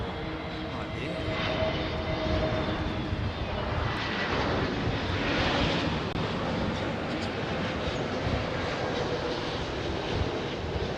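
A Boeing 787 Dreamliner jet at London Heathrow at dusk, a loud sustained engine roar and whine filling the whole stretch, heard outdoors at moderate distance with a voice talking over it.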